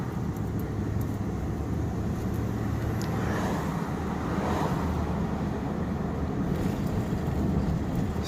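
A car driving on a coastal highway toward Reedsport, Oregon, a steady broadband road and wind roar from inside the cabin that holds constant throughout, with no speech.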